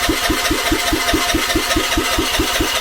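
A Vespa scooter engine cranks and sputters with starting spray and no exhaust fitted, in a fast, steady rhythm of thumping pulses, loud and close, with no one talking.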